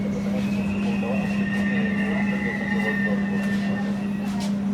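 A Pune Metro underground train arrives at a station and slows to a stop, giving a steady, loud electric hum with a faint high whine above it.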